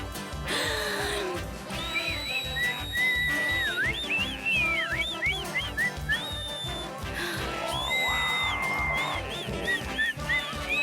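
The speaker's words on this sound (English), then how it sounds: "What I need to do is overindulge in whistling." A cartoon character whistles a bright, warbling melody with rising and falling phrases over a steady rhythmic music backing, loud and close, with short pauses between phrases.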